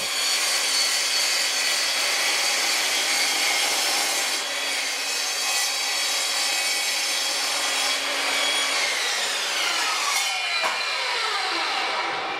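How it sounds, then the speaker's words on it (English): A steel-cutting chop saw slices through brass stock, a continuous loud high-pitched metallic whine and grinding rasp that holds steady for about twelve seconds, then winds down in pitch as the blade slows near the end. "I'm using is this steel cutting chop saw."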